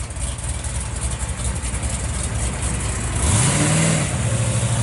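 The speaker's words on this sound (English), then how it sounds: "Tough sounding car. These Chryslers have a sound all on their own, you know." A 1967 Plymouth GTX 440 Belvedere idles with a low, lumpy burble, then revs once near the end into a rising, louder, sustained roar that holds briefly. Close and alone, with no voices.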